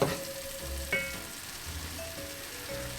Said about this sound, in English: So that's our onions. We're going to let that simmer down a little bit